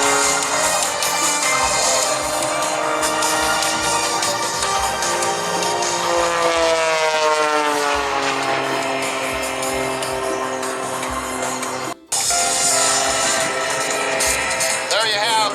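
A Pitts S2S aerobatic airplane performs at an airshow, its engine droning steadily and then rising and sweeping in pitch as it maneuvers. An announcer talks over it throughout.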